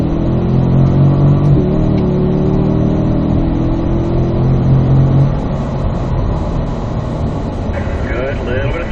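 A Corvette engine pulls hard through the gears on a racing circuit, a loud sustained roar rising in pitch, dipping at a shift and climbing again, with a voice coaching over it.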